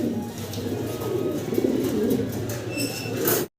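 Pigeons coo close by in a low, rolling, repeated murmur, with bird calls layered over it, before the sound cuts off abruptly.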